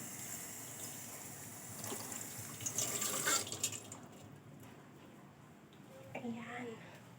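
Tap water runs steadily over a muddy pair of slippers as they are washed, with a brief louder gush partway through, then a quieter trickle.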